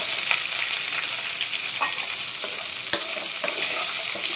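Onions frying in coconut oil, a loud, continuous bright sizzle close up with occasional soft stirring knocks and scrapes, no speech over it.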